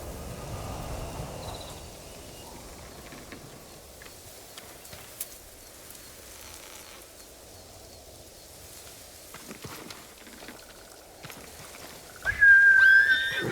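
In the video game Ghost of Tsushima, a quiet outdoor ambience with a few soft knocks and rustles gives way to a sudden loud horse whinny near the end.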